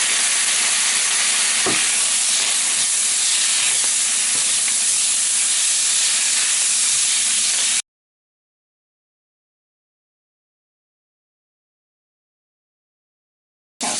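Minced garlic sizzles in a hot pan with ground meat for homemade sloppy joes, a loud steady hiss that runs alone for several seconds and then cuts off into silence.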